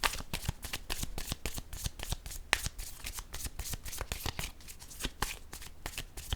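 A deck of cards is shuffled continuously at close range, producing rapid rippling riffles and quick flicks in a steady, busy rhythm throughout, with no voices.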